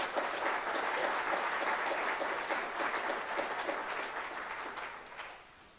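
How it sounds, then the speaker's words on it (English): An audience claps steadily for several seconds before the applause gradually tapers off. "I appreciate the applause anyway"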